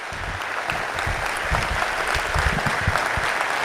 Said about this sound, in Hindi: इसके एक बार जोरदार तालियां बजाइए डॉक्टर विष्णु सक्सेना के लिए